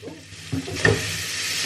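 Olive oil sizzles in a frying pan with a steady, close hiss and a brief louder crackle burst midway, with no voices.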